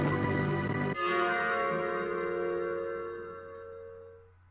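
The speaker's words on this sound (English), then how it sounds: "After the bell sounded," A bell in the Professor Layton vs. Phoenix Wright video game rings out in one loud metallic strike, then rings on in a long, pure, slowly fading tone with clear sustained overtones.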